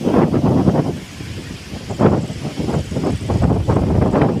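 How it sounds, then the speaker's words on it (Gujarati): Strong wind roaring in buffeting gusts ahead of a rainstorm with lightning, rising and falling as it batters the microphone, with a rustle of leaves from trees underneath. "ફૂલ પવન ચાલુ થઈ ગયો છે"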